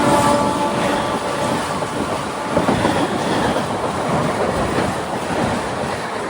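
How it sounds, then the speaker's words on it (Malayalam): Devagiri Express hauled by a WAP7 electric locomotive runs at speed, a steady loud rumble of wheels on rails with faint rhythmic clatter throughout, no voices. "ഛത്രപതി ശിവജി മഹാരാജ് ടെർമിനസ് കറക്റ്റ് 9:30 തന്നെ ട്രെയിൻ എടുത്തു."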